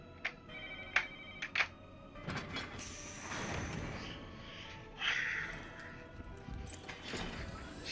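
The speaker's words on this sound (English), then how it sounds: "Sorry if you guys hear a phone in the background every now and then." A telephone rings faintly in the background several times, short electronic chirps over soft room noise and some shuffling.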